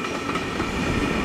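The Royal Scotsman train rumbles past close by, a loud continuous roar of wheels and carriages on the rails with faint rhythmic clatter.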